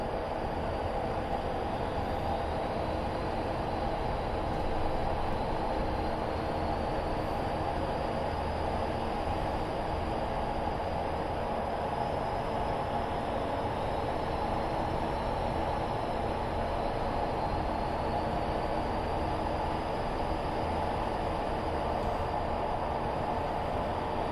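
A train in a train simulator game rumbles steadily along the rails as it picks up speed, with a smooth, continuous drone and faint rising tones, no talking.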